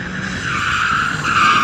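A BMW M3 switched into 2-wheel drive spins its rear tyres to warm them, a loud, close, continuous squeal rising slightly in pitch over engine roar.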